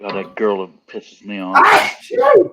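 A single sharp sneeze bursts out partway through, set between stretches of someone talking, with loud close speech before and after it.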